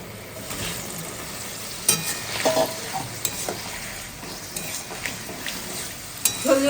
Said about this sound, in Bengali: এবার আমি চিকেনগুলোকে দিয়ে দেবো